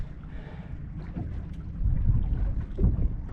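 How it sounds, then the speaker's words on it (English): Wind buffets the microphone on a fishing boat at sea, a low rumbling roar that swells and gusts louder toward the end, with no voices. "This wind's certainly got up now."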